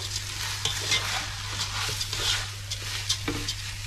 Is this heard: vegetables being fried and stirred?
yes